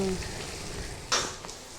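Tadka tempering for sarson da saag sizzling in hot oil, a steady soft frying hiss with a sharper crackling burst partway through, close and moderately quiet.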